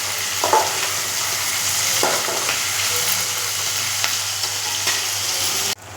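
Chopped tomatoes sauté in a hot pan with salt for a ginger-dal kuzhambu, a steady sizzle broken by a few scraping stirs of a spoon, close and continuous until it cuts off sharply near the end.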